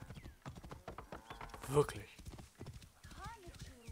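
Horse hooves clip-clopping in Assassin's Creed Origins, with a brief whinny, sounding under steady German conversation between players throughout.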